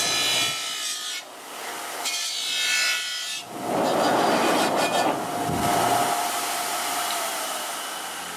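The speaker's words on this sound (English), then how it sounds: "I'm going to use a motorized wire brush to do that." A motorized wire brush scours factory silicone off a Ford E-450 motorhome's rear differential housing, giving loud, harsh abrasive whirring in several bursts with brief pauses between them.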